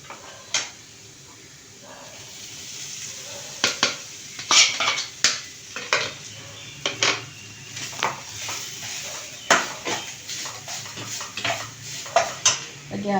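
Grated coconut going into a hot non-stick-free pan with fried urad dal for dry chutney, then a spoon stirring and scraping repeatedly, with clear metallic clinks and scrapes close up.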